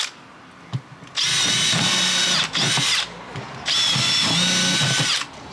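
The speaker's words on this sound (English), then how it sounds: "No hole, we're gonna drill a hole." A power drill boring a hole into a black plastic plant pot, two long loud whining runs with a short pause between them, each with a steady high motor tone, plus brief clicks before the first run.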